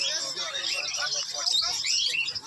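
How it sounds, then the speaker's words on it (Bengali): A dense chorus of many small caged birds of various kinds chirping and twittering at once at a Sunday bird market in Serampore, busy and close, with faint human voices mixed in. "বিভিন্ন রকমের পাখি"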